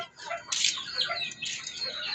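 Several chickens cluck and squawk nearby in short, overlapping bursts, with a few louder calls standing out.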